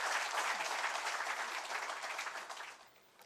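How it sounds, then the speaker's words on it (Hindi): Warm applause from a lecture audience at Abhyas Mandal in Indore, welcoming a former ambassador to the stage; dense clapping fills the room, then tapers off in the final second. "अभ्यास मंडल का पारखी श्रोता वर्ग यदि शानदार तालियों से इन्हें मंच पर बुला ले"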